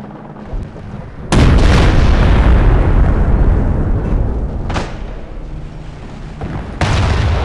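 Heavy explosions and gunfire in Company of Heroes, loud booming blasts that roll and fade, with several sharp new impacts breaking through a dense battle rumble.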